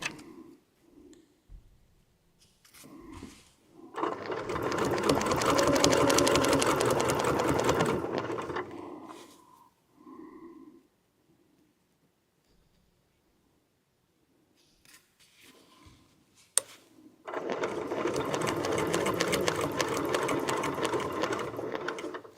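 A sewing machine stitches quilt blocks in two long, loud, steady bursts of rapid needle hum, separated by a stretch of near silence with faint handling noises.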